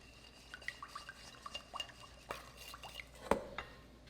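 Chicken pieces being mixed with thyme and garlic powder in a bowl for kabobs, heard as a string of soft, close clinks and wet scrapes against the bowl, with one sharper knock near the end.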